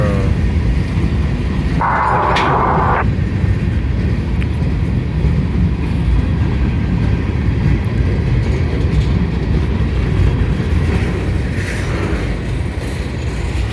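A southbound freight train hauled by an AC-44 locomotive pulls gondola cars past a trackside spot near Woodbury, New Jersey, a loud, continuous rumble and roar close by, with a brief higher tone early on.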